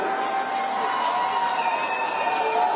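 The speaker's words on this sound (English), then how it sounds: "Give another round of applause for these two tonight" A crowd applauds and cheers after a bare knuckle boxing main event, a steady wash of clapping and hollering from a large audience filling the arena, with voices blending in throughout.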